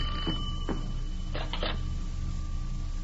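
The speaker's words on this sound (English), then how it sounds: "The telephone's ringing." An old telephone bell ringing in a house at night, its tone steady and metallic, with short clicking bursts over a constant hum.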